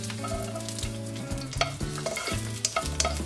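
Red onion sears in a hot pan, giving a continuous sizzle broken by brief clatters of stirring, close and moderately quiet with no voices.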